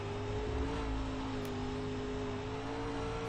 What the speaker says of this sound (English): getting the car rotated and gassing it out